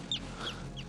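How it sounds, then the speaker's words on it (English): Three quick, harsh high-pitched Arctic tern calls ring out in rapid succession from a bird circling above, fairly close, with a low steady hum underneath. "Arctic tern circling above me."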